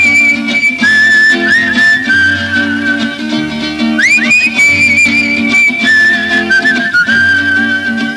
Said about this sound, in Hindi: एक दूसरे को सीटी बजाकर इस तरह कहेंगे